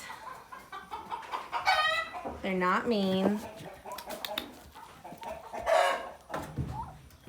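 A small flock of turkeys, toms and hens on a homestead, cluck and give a few warbling calls nearby while someone talks over them, the birds loudest in a short burst midway.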